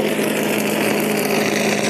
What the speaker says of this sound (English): Team tuning on this engine, making sure she sounds good and she's ready to go.